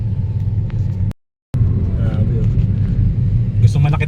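A 2020 Toyota Vios engine suffering rough idle and low power rumbles continuously up close, with a brief dropout partway through.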